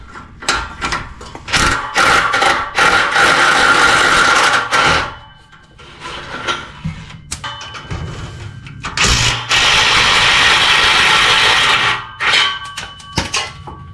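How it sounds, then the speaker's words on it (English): Bursts of rapid ratcheting and metallic scraping as exhaust bolts come off a Ford Fox-body Mustang with a 5.0 engine, loud and close, in stop-and-start runs separated by short pauses and clanks. "Alrighty, on to the last couple bolts of the exhaust."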